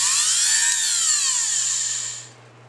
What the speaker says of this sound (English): I take a Dremel tool with a little cutoff tool in it